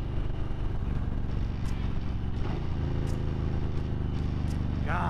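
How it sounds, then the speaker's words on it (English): A motorcycle with Vance & Hines exhaust pipes, an M8 engine bike, rumbles loud and deep with a steady throbbing beat, close to the mic, with light ticks and rattles over the drone. "Love the sound of Vance & Hines pipes."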